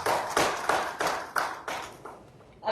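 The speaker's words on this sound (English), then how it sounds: "let's welcome him with a round of applause" Audience claps welcome a panelist at a live real estate panel event in Coimbatore: about eight evenly spaced, sharp claps ring out in a reverberant hall, each one decaying before the next.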